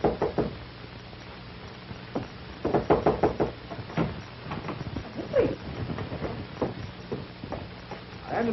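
Several knocks on an apartment door in a 1945 film, loud at first and then scattered among footsteps and other household knocks and bumps, with a slightly muffled, old-recording quality.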